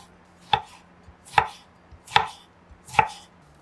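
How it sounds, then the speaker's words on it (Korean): Knife slicing halved tomatoes into half-moon pieces on a cutting board makes four distinct, evenly spaced chops, each one crisp and close. "반으로 자르고 반달 모양으로 슬라이스 하세요."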